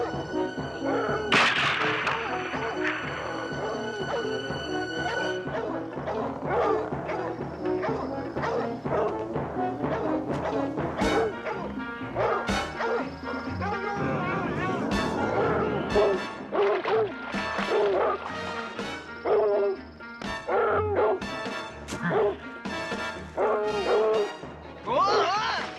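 Dogs barking and whimpering outdoors during a tense scene, with yips and whines running throughout under overlapping voices and background commotion.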